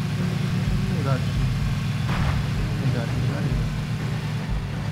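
A car engine in the video game Battlegrounds, rumbling at a low steady drone close by, with players talking over it.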